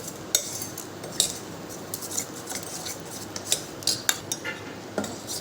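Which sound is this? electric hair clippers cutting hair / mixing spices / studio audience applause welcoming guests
mixing spices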